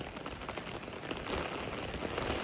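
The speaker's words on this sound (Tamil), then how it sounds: "சைலண்டாக பெய்யும் மழை இந்தளவுக்கு ஃபாஸ்ட்டாக பெய்யாது" Heavy rain pours steadily over Frankfurt, a dense, even hiss of drops striking surfaces that holds without a break.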